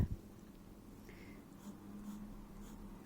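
A Lamy AL-STAR fountain pen with a medium nib writes fine and thicker lines, making a faint, soft scratching of nib on paper close up in a quiet room, with no talking.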